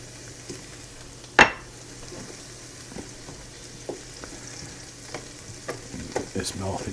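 Butter dropped into a hot pan for steak bites with garlic butter: one sharp thud, then soft scattered crackles and light ticks that grow a little busier toward the end, all fairly quiet.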